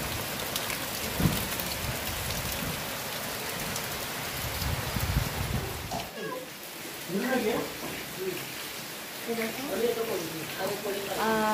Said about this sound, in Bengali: এখানে খুব জোরে জোরে বৃষ্টি হচ্ছে